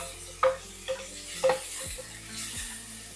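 Dried red chillies and sliced onion sautéing in a pan, a light sizzle broken by several clear knocks and scrapes of a utensil against the metal, close up with no talking.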